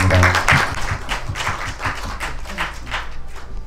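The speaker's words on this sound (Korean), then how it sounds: "박수 부탁드립니다." A cinema audience claps for a director and two actresses at an opening-day screening, steady, moderately loud applause from a crowd that continues evenly.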